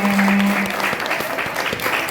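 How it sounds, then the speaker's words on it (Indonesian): Audience applause at a Maulid Nabi Muhammad commemoration held at a school, a steady wash of many hands clapping throughout, fairly close and even, with a brief tonal hum near the start. "tepuk tangan dulu untuk kita semuanya"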